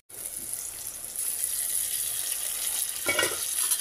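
Onions frying with garam masala in a pan for a mutton curry, a steady hiss close by with a short louder burst of sizzling near the end.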